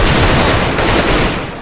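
A high-explosive shot fired in a video game: a loud, dense blast of noise that fills the whole moment and barely eases as it tails off, with no voices.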